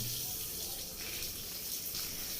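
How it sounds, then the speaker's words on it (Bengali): Water splashes and trickles onto freshly finished concrete to keep it from cracking, a soft continuous wash at low level with slight surges and no talking. "ডালাই যাতে ফেটে না যায় সেজন্য ডালাইয়ে পানি দিয়ে দিচ্ছি।"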